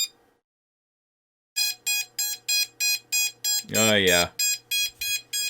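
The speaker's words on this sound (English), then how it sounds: "Probably get motors beeping." Drone ESC motors on a HOMFPV Micron RS 35A 2-6S board beep right after a battery is plugged in, a steady run of loud, evenly spaced electronic tones, close up, with a brief spoken interjection midway.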